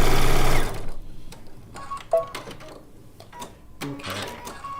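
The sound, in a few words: sewing machine stitching a quilt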